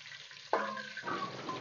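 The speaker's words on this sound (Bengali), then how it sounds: "এইভাবে কিন্তু সব সবজিগুলো একটা একটা করে ভেজে নেব।" Vegetables frying one at a time in hot oil in a village-style kitchen, a faint sizzle that starts abruptly and keeps hissing softly for a brief moment.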